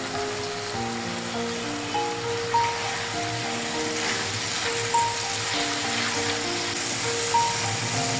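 Capsicum sizzles in a hot pan as mixed vegetables cook for a wedding-style dish, a continuous even frying hiss with faint pops, no talking.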